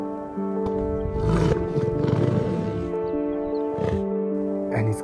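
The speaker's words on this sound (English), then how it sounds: "Not far from the house, a lion met him on the road." A lion roars on a road, deep rumbling growls rising into a loud close roar over a sustained orchestral backdrop, with no voices.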